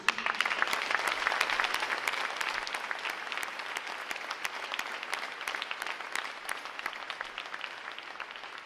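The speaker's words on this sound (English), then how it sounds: "Please join me in a round of applause for all of our supporters." A crowd at a U.S. Navy ROTC graduation ceremony applauds its supporters, a dense round of clapping that starts strong and slowly thins, with sharp individual claps standing out as it fades.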